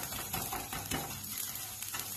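Rice being fried and stirred in a new pot while making payesh, a soft continuous sizzle with gentle scraping strokes of a spoon at a steady, moderate level.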